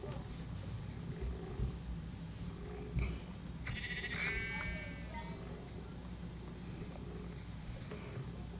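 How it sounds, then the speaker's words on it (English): Minecraft sheep gives a single wavering bleat in the middle of a low, noisy background, brief and moderately faint, with a few soft knocks around it. "I just killed a poor sheep."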